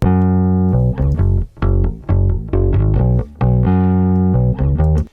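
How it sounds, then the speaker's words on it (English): Bass guitar runs through a distortion pedal, its riff buzzing with added grit and bright overtones, loud and up front, with no other sounds. "what the distortion pedal does is it adds additional harmonics that just makes the thing cut out of the mix"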